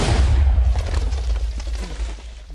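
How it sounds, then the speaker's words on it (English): A single loud blast at the start, followed by a rumbling, crackling decay that fades over a couple of seconds. "That's the sound of TNT."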